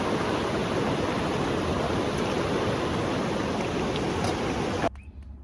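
Steady rushing of flowing river water fills the scene, close and constant, before cutting off abruptly near the end.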